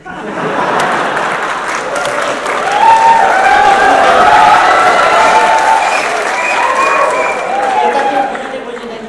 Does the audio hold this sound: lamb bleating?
no